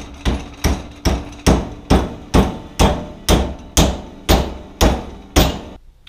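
Aluminum flat bar being hammered into a 90-degree bend, eleven loud, evenly spaced ringing hammer blows about half a second apart, each decaying briefly before the next, with no talking.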